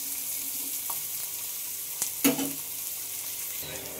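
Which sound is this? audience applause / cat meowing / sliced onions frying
sliced onions frying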